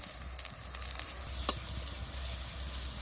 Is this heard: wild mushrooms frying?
yes